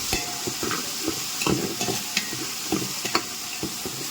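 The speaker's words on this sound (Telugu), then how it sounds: "ఇలా కలుపుతూ ఉండాలి తర్వాత అల్లం వెల్లుల్లి పేస్ట్ వేసేయాలి" Ginger garlic paste being stirred in a pan of chicken curry (country chicken), with a steady sizzling fry under repeated scraping and stirring strokes, close up and with no talk.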